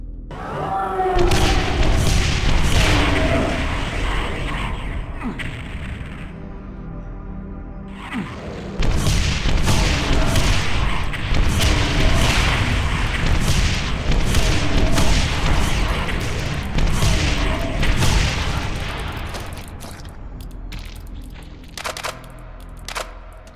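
Rocket explosions in Brutal Doom 64 boom one after another, loud and dense, with a brief lull before the blasts resume and then thin out near the end.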